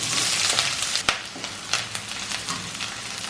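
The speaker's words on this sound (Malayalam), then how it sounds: "ഒരു മീഡിയം ഫ്ലെയിമിലിട്ടാണ് നമ്മൾ ഈ സവോള വഴറ്റിയെടുക്കുന്നത്." Sliced onion and green chilli sizzle steadily in hot coconut oil over a medium flame, with occasional stirring clicks over a continuous frying hiss.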